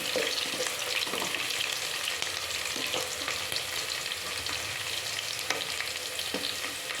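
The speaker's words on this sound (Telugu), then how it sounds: "బాగా వేగాలి ఎర్రగడ్డలు" Onions frying steadily in a pan for a Telugu-style fish curry, a continuous dense sizzle with faint crackles and occasional stirring scrapes, close and fairly loud with no talking.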